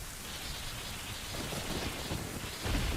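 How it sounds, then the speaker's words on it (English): Steady rain from The Legend of Zelda: Ocarina of Time pours continuously, with a deeper rumble of thunder swelling near the end. "got rain and lightning."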